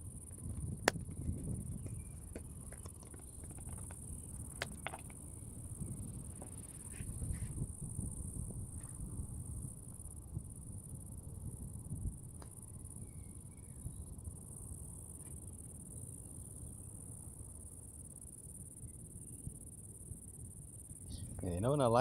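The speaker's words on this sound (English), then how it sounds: "The chirping from the crickets." Crickets chirp steadily in the evening beside Amsterdam Schiphol Airport, a constant high-pitched trill continuing throughout, with faint low rumble and scattered rustling beneath it.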